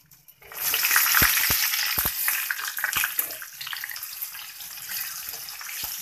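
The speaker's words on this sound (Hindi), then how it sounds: "ऑयल जैसे ही गर्म हो जाए तो इसके अंदर डाल दें हरी मिर्चें" Green chillies dropped into hot oil in a home kitchen, a sudden burst of loud sizzling and crackling that settles into a steady, busy fry with occasional pops.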